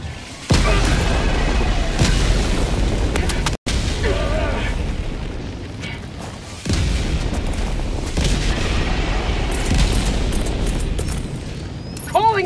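Heavy booms from an orbital barrage in a video game roll in a near-continuous thunder of explosions, loud and close, with voices calling out over the blasts.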